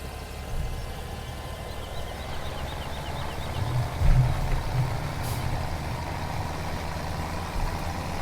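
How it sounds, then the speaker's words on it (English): A tractor engine labors uphill in Farming Simulator 17 while hauling a loaded trailer, a steady low rumbling drone with brief hissing and clanking bumps midway, continuous and fairly close without speech. "See if this tractor will pull it up that hill."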